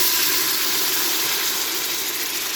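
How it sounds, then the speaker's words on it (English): Beef broth hitting a hot pan to deglaze it while making birria, a loud, steady broadband sizzle and hiss that holds at constant strength for the whole moment, with no talking. "I'm going to put a little bit of that beef broth to deglaze the pan"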